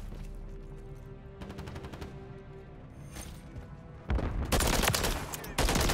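Holger 556 assault rifle fire in the video game Modern Warfare 3: a quieter stretch of game noise gives way to loud, dense bursts of rapid gunfire in the final two seconds.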